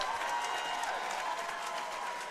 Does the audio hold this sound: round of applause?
yes